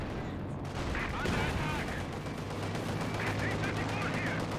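Rapid gunfire from the real-time strategy game Company of Heroes 2, Ostheer against Soviets, crackling as dense continuous bursts over steady battle noise, with someone talking over it.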